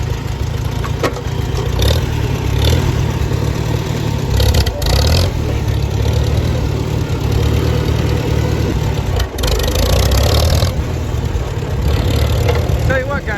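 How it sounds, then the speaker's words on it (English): An old Farmall tractor engine chugs steadily up close, a low rumbling idle that swells and eases a few times, with occasional voices over it. "this tractor just runs better and better every time I get her out of the shed"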